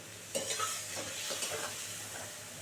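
Spiced tomato paste stir-fried in a pan for a fresh fish curry, a soft continuous sizzle with a few scraping stirs of the spatula, close and fairly quiet.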